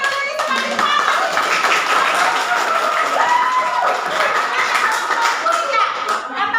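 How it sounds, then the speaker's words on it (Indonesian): High school students in an Indonesian classroom clap their hands, quick sharp claps spread across the group with children's voices and laughter mixed in, fairly close and loud. "Tepuk tangan dulu ini semakin panas."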